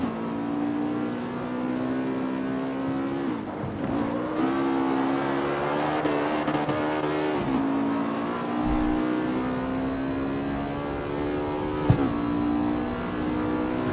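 BMW car driving fast in the CarX Street racing game, engine droning and revving continuously with gear shifts and pitch swings, loud and steady throughout.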